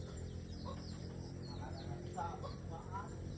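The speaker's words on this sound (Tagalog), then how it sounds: "Inahin." A hen clucks on a farm in short, scattered calls against steady outdoor background noise.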